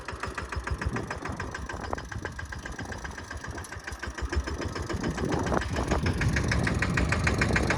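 A small mini tractor engine runs steadily nearby during groundnut sowing, with a rough, knocking chug, growing slightly louder and denser toward the end.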